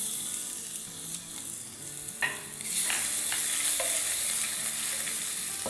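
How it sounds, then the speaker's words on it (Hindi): Crushed garlic sautés in hot oil for a moong dal, giving a soft, steady sizzle with a few spoon scrapes and stirring clatters partway through. "बस 10 सेकंड इससे सौटे करेंगे, इसकी खुशबू रहने देंगे।"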